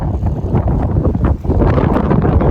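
Strong wind gusting at a seaside fishing spot in Croatia, buffeting the microphone with a loud, continuous low roar and rustle that swells and dips, with no talk.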